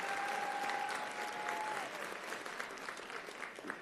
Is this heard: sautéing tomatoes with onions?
no